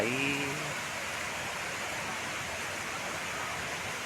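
Steady broadband rush of the Muak Lek waterfall in Saraburi, a clear-water fall, flowing continuously at moderate distance, with a brief voice murmur at the very start.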